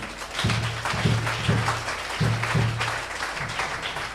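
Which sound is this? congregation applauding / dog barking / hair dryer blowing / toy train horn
congregation applauding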